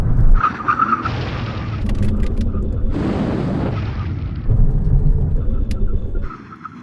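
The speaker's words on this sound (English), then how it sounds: "Get level, 70 miles an hour. Here comes the line. Full emergency stop." Audi R8 braking hard from 70 mph in an emergency stop, a loud rumbling roar of engine and tyres scrubbing across the surface, swelling and easing over several seconds before cutting off.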